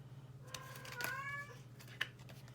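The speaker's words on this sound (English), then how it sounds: "Yes, there goes my kitty cat again." A pet cat meows a few times indoors, one drawn-out meow in the middle and a short chirp later, faint and alone over a steady low hum.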